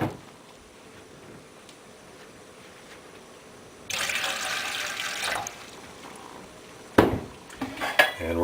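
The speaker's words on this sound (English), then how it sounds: "We're going to add 3½ cups of water." Water splashes and streams into a metal pot for a couple of seconds, followed by clinks and clatter of cookware close by.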